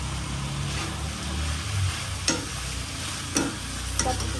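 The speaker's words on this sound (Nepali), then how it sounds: "अब यो मजाले हाल्ने, मजाले चलाउने" Stirring of a tomato and salt dish frying in a pan, a steady sizzle with a few sharp scrapes of the spoon against the metal. The sounds are close and come without any talk.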